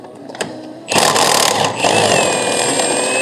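An impact wrench rattles as it loosens bolts on a Fiat Ducato. It gives a brief tap, then a loud sustained whirring buzz that dips for a moment before carrying on, close by.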